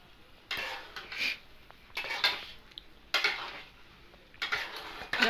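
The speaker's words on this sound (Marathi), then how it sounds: "मी अंडे आहेत ना ह्या मसाल्यामध्ये टाकते म्हणजे मसाल्यामध्ये पण फ्राय करून घ्यायचे" Boiled egg pieces are stirred through masala in a pan, with a spatula scraping and clattering against the metal in four distinct bursts between short pauses.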